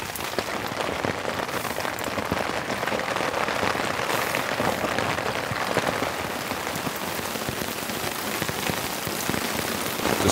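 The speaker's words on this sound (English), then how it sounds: "The rain is coming down. It's relentless." Heavy, relentless rain drums on a camping tent in a rainstorm, a dense and constant patter heard close up with no voices and no letup from start to finish.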